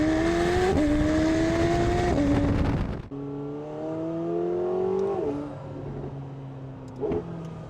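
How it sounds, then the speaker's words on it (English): A McLaren 750S Spider revs and shifts, engine pitch climbing in steps before a drop on downshifts with faint crackles, heard from inside the car at moderate loudness. "pops and bangs on the downshifts."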